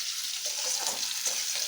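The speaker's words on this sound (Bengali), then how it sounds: "উচ্ছে ভাজা উনুনে" Sliced bitter gourd sizzles in hot oil on a stove, a steady close crackle and hiss with small popping bursts and no talking.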